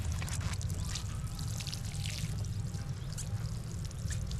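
Water is poured onto a garden bed of carrot seed plants, a steady, fairly loud rushing splash that runs unbroken for the whole stretch, with no voices over it.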